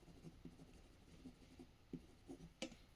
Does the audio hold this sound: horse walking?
no